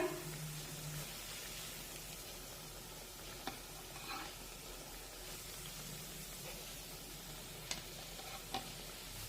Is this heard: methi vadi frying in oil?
yes